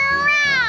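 A single drawn-out meow, imitated by a voice, clear and close with a rising then falling tone.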